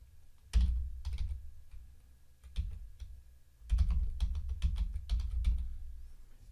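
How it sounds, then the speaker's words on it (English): A domain name typed on a computer keyboard: two quick bursts of close, crisp keystrokes separated by a short pause, with no talking. "now what I'm going to do is type in my domain name."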